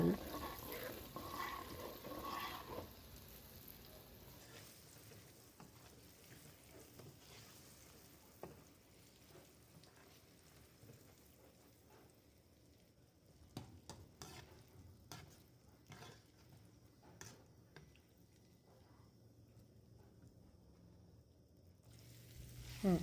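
Frying in hot oil for a Thai herb-loaded sour fish dish, a steady sizzle and bubbling that is busier at first, then thins to softer crackles with occasional clinks near the end, no voices.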